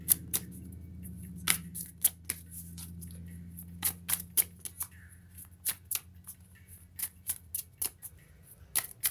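Spirit animal cards shuffled and drawn by hand, with a run of crisp, close riffling snaps and flicks in an irregular rhythm, some clustered and some spaced apart, with no talking.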